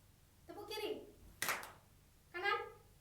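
Hand claps in a group clapping game, three separate claps spaced about a second apart, each short and moderately loud, with voices speaking between them.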